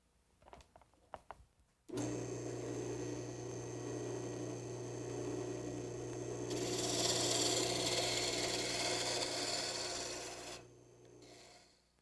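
A Delta wood lathe turns a colonial footstool leg spindle in a home workshop, with a tool taking light passes. After a short pause, a steady loud whirring rasp sets in, grows brighter through the middle and drops away near the end.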